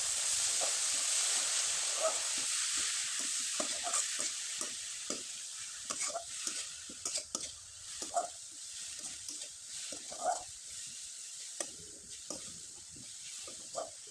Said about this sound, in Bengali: আর খুব ভালোভাবে নেড়ে চেড়ে শুকনো শুকনো করে পুরটা আমি তৈরি করে নেব